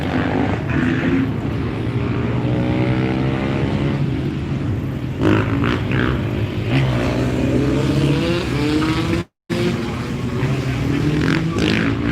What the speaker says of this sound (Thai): นี่นะคะจะมีการแข่งขันรถด้วย